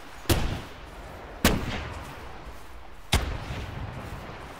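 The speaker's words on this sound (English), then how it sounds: "Well, I guess people are just going to keep shooting." Gunshots in the hunting video game theHunter, three sharp loud reports spaced about a second or more apart, each trailing off into a short echoing decay over a quiet outdoor background.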